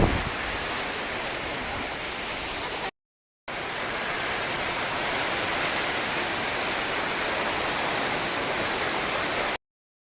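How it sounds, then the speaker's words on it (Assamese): Heavy rain pouring down outdoors at night in rural Assam, a dense, steady roar close by that cuts out briefly once and stops abruptly near the end. "এয়া বাহিৰত পূৰা বৰষুণ দি আছে"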